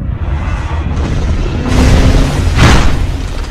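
Giant kaiju smashing a bridge in the Roblox game Kaiju Universe, a rumbling game soundscape swelling into a loud boom and crash about two-thirds through, with continuous low destruction noise throughout.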